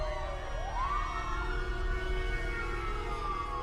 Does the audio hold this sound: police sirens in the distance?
yes